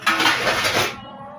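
Dishes and utensils clink and rattle in a home kitchen, a brief close burst of metal and ceramic knocking that stops abruptly.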